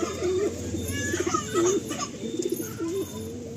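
Pigeons coo in soft, repeated throaty warbles close by, several short bursts over a low steady background hum, with no talking.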